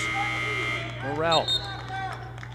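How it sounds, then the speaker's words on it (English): A buzzer sounds at a women's basketball game, a single brief harmonic tone marking a substitution, heard amid arena noise and a steady background hum. "Kendall Cloninger will come in off of the buzzer."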